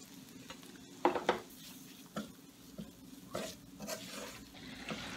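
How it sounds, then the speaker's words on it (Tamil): Ground masala paste hits fried onions in a pan for a spicy pepper chicken gravy. A soft sizzle sits under scraping stirs and a few quiet clinks of the spoon on the pan. "இப்போ அரைச்சி வச்ச மசாலாவை ஆட் பண்ணிக்கிறேன்"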